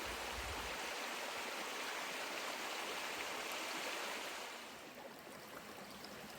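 Rock Creek in Washington flows in a steady broadband rush of water, close and continuous, easing slightly toward the end, with no voices.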